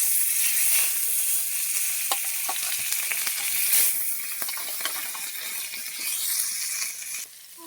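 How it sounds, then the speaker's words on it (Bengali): Fish rubbed with salt and turmeric sizzling loudly in hot oil, a dense continuous crackle with scattered pops and spatters close up, easing slightly near the end. "তেল দিয়ে দিয়েছি, তা গরম হয়ে গেছে। দিয়ে দেবো মাছ"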